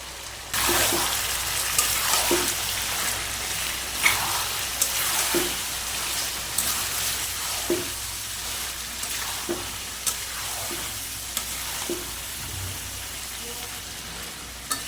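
Potatoes and goat lungs sautéing in a pan, with sour yogurt being added and stirred in; a steady close sizzle runs throughout, broken by regular spoon scrapes and stirring knocks every second or two.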